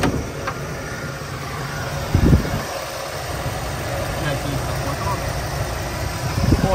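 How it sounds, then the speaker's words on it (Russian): A Ford car engine idles steadily with a low, even rumble, with a person talking over it and a couple of brief knocks. "Мотор шепчет, все работает,"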